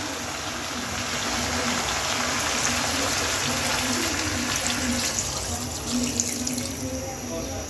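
Water is poured into a jackfruit and potato curry with pork to make gravy, a continuous splashing gush running steadily at close range for several seconds.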